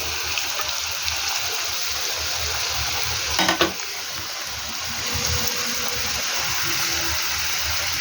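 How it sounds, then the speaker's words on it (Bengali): Data and potatoes fry in a pan for a Bengali data alu posto dish, giving a continuous, close sizzle. A brief stirring clatter cuts through midway, and the hiss swells slightly afterward. "এটাকে ভাজবো ভালো করে।"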